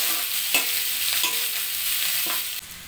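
Onions and peeled garlic cloves sizzle steadily in a hot pan while a spatula scrapes and stirs a few times, close and loud, with no voices.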